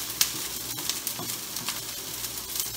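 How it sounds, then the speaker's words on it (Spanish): Broccoli, celery and onion sizzle in a hot pan for a stir fry, a steady close crackle with small pops and occasional stirring scrapes. "El brócoli, el celery y la cebolla es lo más que se tarda. Y es lo primero que yo pongo."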